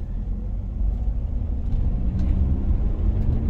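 A first-generation Toyota RAV4 engine at about 3000 RPM in second gear, heard from inside the cabin as a steady, loud low drone with no distinct break.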